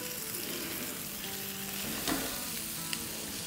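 Eggplant fries with garlic and whole spices in a pan, a soft continuous sizzle with one or two brief stirring clicks, close and fairly quiet, no talking.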